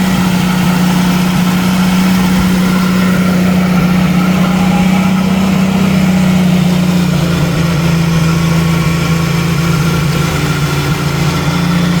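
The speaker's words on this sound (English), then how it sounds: "she just kicked down, so it sounds a lot better when she's not running at high idle" A 1990 Jeep YJ with the 4.2L engine idles steadily at low speed, a loud, continuous close-up rumble with an even droning hum and no voices.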